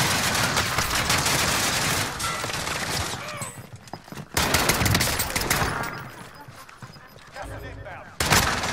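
Video game gunfire in Warzone: dense, loud bursts of automatic shots and impacts in a chaotic firefight, heard under excited voices talking over the action.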